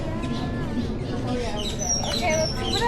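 Many birds chirp and tweet together in an aviary, a busy layered chorus of overlapping high calls over a constant background murmur of a crowd.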